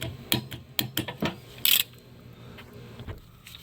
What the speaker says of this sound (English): Alright, I'm just going to torque this to 25.